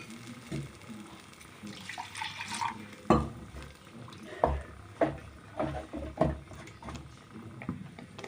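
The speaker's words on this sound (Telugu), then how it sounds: "ఎంత గ్రేవీ కావాలో అంతకు సరిపడా వాటర్ వేసుకొని కలుపుకోవాలి" Brinjal masala curry being stirred in a pan after water is added, with repeated wet scrapes and clinks of the spoon coming in uneven bursts.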